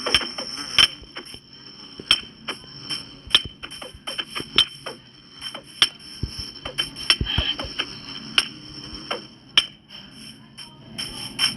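Angry bees in the Minecraft video game: a persistent high-pitched buzzing drone punctuated by repeated sharp clicks and hits at irregular intervals.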